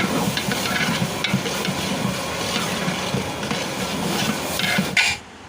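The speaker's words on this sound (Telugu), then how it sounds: "పచ్చిమిర్చి అయితే ఆయిల్లో మంచిగా వేగనివ్వాలి" Green chillies and turmeric sizzle steadily in hot oil in a pan, a continuous close crackling hiss that cuts off abruptly near the end.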